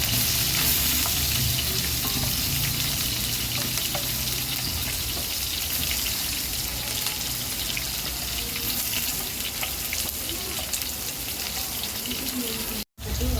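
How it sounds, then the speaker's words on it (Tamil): Mustard seeds, curry leaves and finely chopped onion fry in oil for a chicken gravy. A loud, continuous sizzle with crackling pops runs throughout, with occasional stirring, and a brief silence comes near the end. "இப்போ நம்ம எல்லாத்தையும் நல்லா வதக்கிக்கலாம்."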